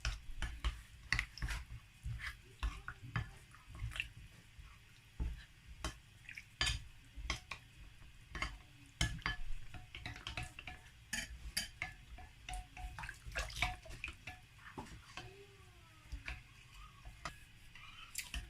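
A spoon scraping and clinking against a bowl as jasmine rice, coconut oil and water are stirred, in quick repeated taps and swirls, close up with no talking.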